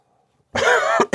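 After a brief quiet moment, a person coughs hard and close, a rough hacking burst followed by a second short cough.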